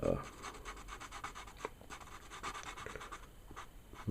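A Letraset Promarker chisel tip colors on paper, filling a larger area with soft, repeated rubbing and scratching strokes, close and quiet.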